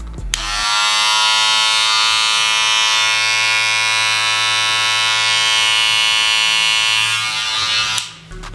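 Wahl Senior cordless hair clipper running alone and close, a loud steady motor buzz with strong harmonic whine holding even for about seven seconds before switching off.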